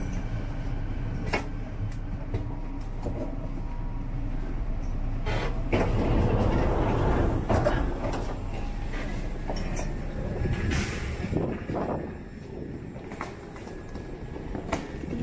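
A Vancouver SkyTrain pulls away from the station, a steady rumble with rising and fading whine and occasional clinks, continuous and moderately loud with no talking.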